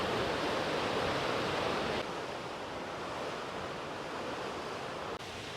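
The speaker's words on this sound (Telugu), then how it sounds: "అబ్బా ఇక్కడ ఆల్రెడీ మనకు తెలుస్తుంది గషింగ్ ఎట్లా పడుతుంది తెలుసు అవి." A glacier-fed waterfall near Lauterbrunnen in the Swiss mountains gushes in a loud, unbroken roar of falling water, steady throughout with no voices.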